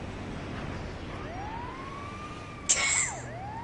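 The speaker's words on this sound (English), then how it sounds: "no need to overuse the siren, just only use it when you need it." A video game police car siren wails in a rising and falling sweep over steady background rumble, with a brief sharp burst partway through.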